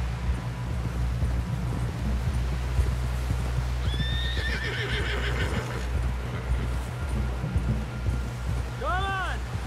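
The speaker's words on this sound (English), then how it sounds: "Someone help John down off this horse." Horses in the Red Dead Redemption 2 video game galloping with steady hoofbeats under continuous ambience, as a loud, close neigh rings out midway and a second whinny follows near the end, with voices talking over it.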